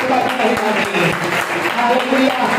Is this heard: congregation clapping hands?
yes